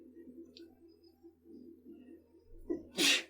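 A single sharp sneeze bursts out near the end, loud and close, following a stretch of soft low murmuring voices in a room.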